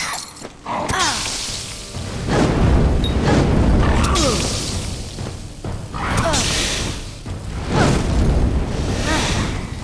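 Heavy booming explosions from a special move in Kingdoms of Amalur Re-Reckoning on Xbox Series X, several deep blasts with whooshing, shattering tails rolling over each other, loud and close.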